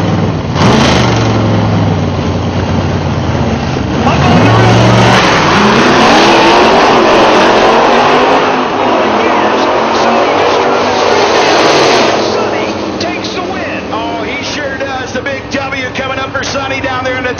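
A 1937 Chevrolet gasser drag racing car roars at full throttle at a South East Gassers PDRA event at Rockingham, its loud, rising engine revs dominating while an announcer talks over it.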